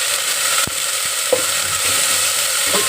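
Ginger paste fries in a pan with a steady, bright sizzle throughout, broken by a few soft knocks as it is stirred, close and loud with no talking.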